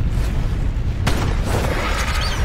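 A loud shotgun blast booms out in the mobile game Ark Survival Evolved during a dungeon fight, one sharp shot cracking through dense, constant game noise.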